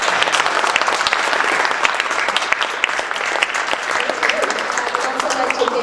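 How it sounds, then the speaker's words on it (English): An audience applauds panelists at the close of a round-table discussion on the future of AI, a steady, dense clapping that holds at even loudness throughout without pause. "Can we have a round of applause for our awesome panelists?"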